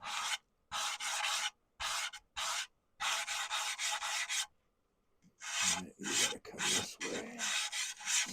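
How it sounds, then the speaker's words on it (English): Sandpaper rasps against a turned wood piece on a lathe in a series of close scratchy strokes, separated by short silent pauses and then a quicker run of rubs at the end. "sanding with the grain."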